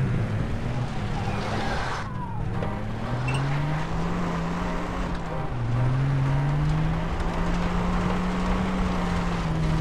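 A car engine in Far Cry 3 hums and shifts pitch as it drives along, steady mid-level motor tone with gentle rises and dips over the whole stretch, no voices.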